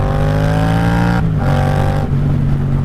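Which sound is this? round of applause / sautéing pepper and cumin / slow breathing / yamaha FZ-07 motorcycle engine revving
yamaha FZ-07 motorcycle engine revving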